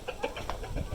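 Chickens clucking softly nearby in a short burst of a few quick clucks over a low background rumble.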